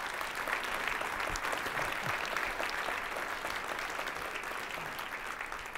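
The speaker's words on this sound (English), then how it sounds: "How about a round of applause for the two of them?" Sustained audience applause at a university strategic planning launch event honoring two co-chairs, a dense, even clapping from a large crowd that continues steadily without talk.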